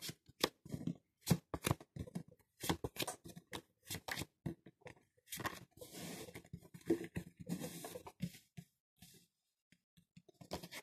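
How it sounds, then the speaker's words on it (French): Oracle cards are spread out across a table, giving a run of crisp, close slapping and sliding clicks in irregular bursts separated by brief quiet gaps. "Voilà, j'étale les cartes. Je vais en tirer 5."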